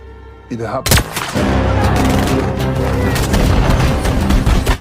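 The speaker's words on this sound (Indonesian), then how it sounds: "si JJ pun diperintahkan agar ia menembakkan senjatanya dan terjadilah keributan di tempat tersebut" Gunfire and a chaotic commotion in an action film scene about secret agents, with a sharp loud blast near the start followed by sustained dense noise of shooting and tumult.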